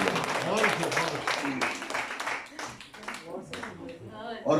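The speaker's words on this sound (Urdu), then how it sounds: "اچھا تالیاں بجا دی" An audience at a mushaira poetry gathering breaks into a burst of clapping that swells and thins, mixed with voices talking over it.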